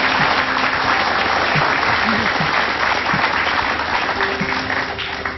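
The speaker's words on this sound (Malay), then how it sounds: "kasih tepuk tangan dulu." Sustained applause from a TV studio audience, dense and steady for several seconds before easing slightly at the end, with faint voices mixed underneath.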